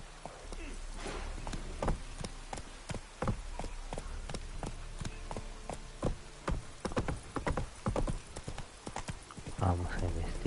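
Horse hooves clip-clop steadily through The Witcher 3 game audio, a run of sharp, evenly spaced hoofbeats with a brief whinny near the end, while someone talks over the game.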